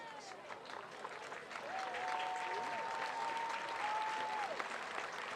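Crowd applause at a high school football game between Marysville and St. Clair, a broad steady patter from both sides of the stands, with a long whistle-like tone and faint announcer speech running over it.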